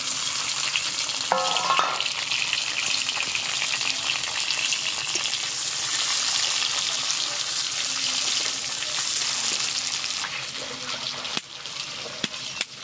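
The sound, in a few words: peeled boiled eggs frying in pan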